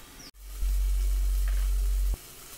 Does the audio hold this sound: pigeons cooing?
no